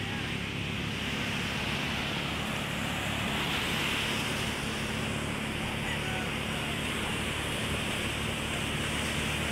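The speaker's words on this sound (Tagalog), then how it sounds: "Yan po, lalaki ng alon" Big waves roll and crash on the open sea near fishing boats, a steady, loud roaring wash of surf and wind that fills the whole stretch.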